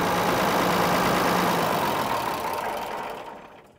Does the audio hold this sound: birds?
no